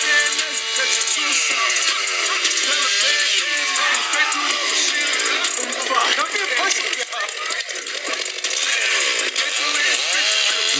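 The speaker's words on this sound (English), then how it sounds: "we see how the chainsaw is going" A chainsaw runs continuously at high revs, a loud buzzing whine with rattling texture that stays steady throughout, with speech-like sound mixed in.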